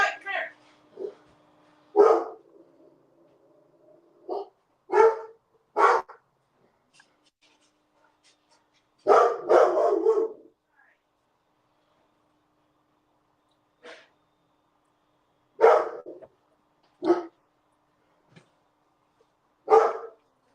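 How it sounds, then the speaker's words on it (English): A dog barking indoors in short, separate bursts of one or two barks with quiet gaps between them, close and fairly loud, with a person occasionally speaking. "when you need them to bark, you want them to"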